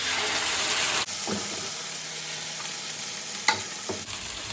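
Crushed tomatoes from a can hitting a very hot pan and being stirred, a strong sizzle that cuts off abruptly, then quieter stirring with a couple of scrapes before the sizzle surges back at the end.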